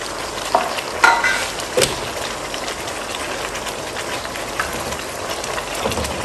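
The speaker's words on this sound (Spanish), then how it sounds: "Me voy a poner los pimientos." Bell peppers hit a hot pan with chicken, a steady close sizzle with a few clacks and stirring knocks near the start, then the frying settles into an even hiss.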